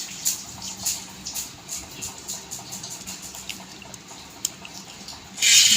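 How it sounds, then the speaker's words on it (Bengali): Ripe mangoes washed by hand in water in a kitchen, with soft continuous splashing and light sloshing at close range, plus brief drips and a louder burst of water near the end. "প্রথমে আমটা ধুয়ে নেব ভালো করে।"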